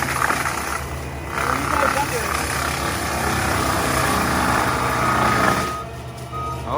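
A Fecon Bull Hog mulcher grinds into a tree with a loud, continuous mechanical roar and churning, rising and easing slightly as it bites, while people talk nearby.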